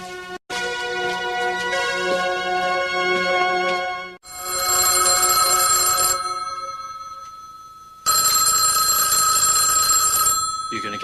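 A telephone rings with a bright, repeating electronic tone in bursts separated by short gaps, loud and close, with no talk over it.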